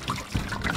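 Water runs into a toy tank in a short, steady trickling gurgle, close and moderately loud, with no talk over it.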